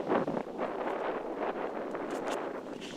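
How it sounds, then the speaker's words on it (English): Strong wind rushes across an open disc golf course and buffets the microphone with a steady, fairly loud roar and rumble, sometimes gusting, with no voices heard. "You can hear the wind just ripping."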